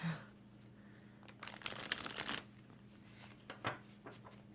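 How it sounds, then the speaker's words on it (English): Someone shuffles a brand-new deck of cards up close. A faint, quick riffle and papery rustle rises briefly in the middle, with a soft tap near the end. "So it has been thoroughly shuffled"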